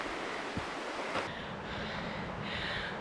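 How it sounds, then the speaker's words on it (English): A river rushes far below a mountain trail through tall aspens on Hope Pass, producing a steady, broad whooshing roar that fills the whole stretch without any voices. "you can hear the river rushing down below"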